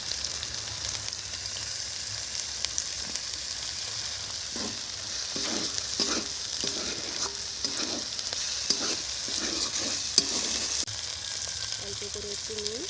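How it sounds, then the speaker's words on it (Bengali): Cashew paste and cumin paste are stirred into a Bengali egg korma, with a continuous hiss of frying under intermittent scraping and stirring knocks, close and moderately loud and steady throughout. "তারপরে দেবো আমি কাজু বাটা, দেবো জিরে বাটা"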